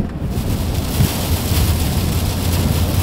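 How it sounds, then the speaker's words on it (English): Heavy rain pelts a car while it is driven, making a loud, dense, continuous roar of drumming water over low road rumble inside the cabin, with no talking. "The rain is loud."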